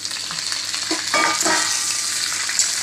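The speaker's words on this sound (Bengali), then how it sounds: "এবার আমি আমগুলোকে ছেড়ে দিচ্ছি, সেদ্ধ করা আমগুলোকে" Boiled raw mango pieces drop into hot oil tempered with dried red chillies and panch phoron, setting off a sudden louder burst of sizzling that settles into a steady close hiss.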